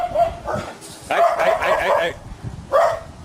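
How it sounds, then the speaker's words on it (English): A dog named Brownie barks at the postman in quick yappy bursts with whiny edges, close by, as a person calls out briefly between the barks. "dog wants to chase the postman"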